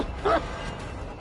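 A single short dog bark or yip from the killer's dog in Dead by Daylight, heard once at moderate volume over a steady game background hum, then nothing further.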